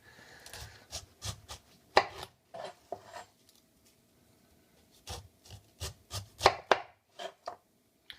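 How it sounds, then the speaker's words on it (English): A chef's knife trims the skin off a pineapple in a quick series of crisp cuts against a wooden board, with bursts of strokes separated by brief quiet pauses and no talking. "I want to take the skin off of the pineapple, and I'm just simply going to trim down as closely as I can."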